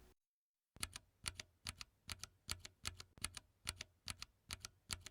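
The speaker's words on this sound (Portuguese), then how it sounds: "e esse é o som do switch marrom." A mechanical keyboard with Cherry MX Brown tactile switches being typed on, producing a regular series of close, sharp keystroke clacks after a short silence, alone and at low volume.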